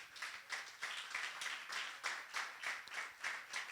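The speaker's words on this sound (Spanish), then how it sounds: "¿Por qué no le das un fuerte aplauso al Señor?" A church congregation claps together in a pulsing, rhythmic pattern, roughly two beats per second, moderately loud and steady throughout with no other sounds on top.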